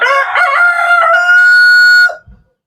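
A young rooster in a backyard flock gives a single loud, close crow lasting about two seconds, ending with a short trailing note and then silence.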